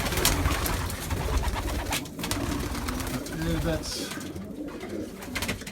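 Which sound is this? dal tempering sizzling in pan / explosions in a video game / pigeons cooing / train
pigeons cooing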